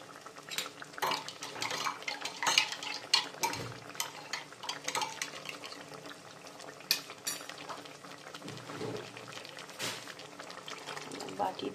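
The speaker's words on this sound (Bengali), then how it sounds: "বাটি ধুয়ে আমি এখানে জল দিয়ে দিলাম।" A bowl rinsed and its water tipped into a cooking pot, with clinking dishes, utensil knocks and brief splashes over a low sizzle; someone talks quietly at points throughout.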